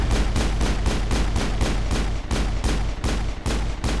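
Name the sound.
pistol gunfire in Mass Effect 1 video game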